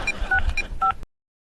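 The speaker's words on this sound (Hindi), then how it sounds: "मैडम, चलो अपने पापा को फोन करो और उनको यहाँ पर बुलाओ।" A phone keypad gives a quick series of about four short dialing beeps at an uneven rhythm, loud and close, then cuts to silence.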